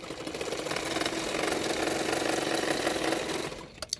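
A sewing machine runs a continuous stitch along the edges of a long frock, its steady mechanical whir holding evenly for several seconds before stopping with a few small clicks.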